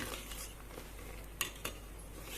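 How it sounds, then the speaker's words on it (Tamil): A ladle scrapes and clinks softly in a pan of simmering colostrum milk, with two sharper metallic taps standing out over a faint, steady background; no one talks. "நம்ம ஒரு கரண்டி வச்சு அதை அடிப்பிடிக்காத மாதிரி கிண்டிக்கிட்டே இருக்கணும்"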